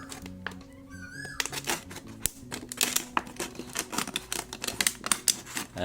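A plastic bottle is cut by hand, giving a quick run of sharp snips and crackling clicks, near and fairly loud, with a few thuds among them.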